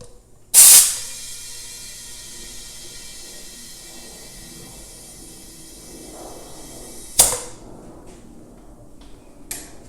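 Air is pumped into a dry-rotted mini bike tire treated with Slime sealant: a sharp burst of hissing air at the start and another near the end, with a faint steady tone between them.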